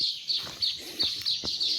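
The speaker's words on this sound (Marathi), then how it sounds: "जिथं विहीर असते तिथंच सुगरण चिमण्या असतात" Baya weaver birds chirp around a dry well in hill country, a steady high twittering with a few sharper calls standing out, moderately close and with no talking.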